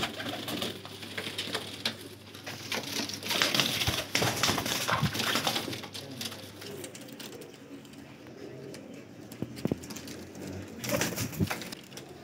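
High-flyer pigeons at a Lahore breeder's loft coo softly through a steady, noisy background, with brief rustles and knocks now and then and no clear talk.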